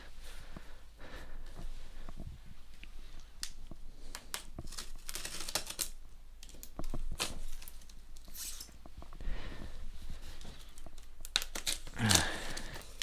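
A corrugated cardboard box double sealed with packing tape is cut open, giving close, scattered crinkles, scrapes and tearing bursts against a quiet room.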